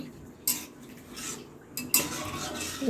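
Metal spoon scraping and clinking against a pot while fish curry is stirred, with sharp clatters at irregular moments over a low cooking background; no talk.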